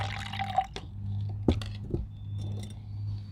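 A small splash of solution poured into a cabbage pH test, heard as a few quiet drips and a short trickle with light clinks of glassware against a low steady hum.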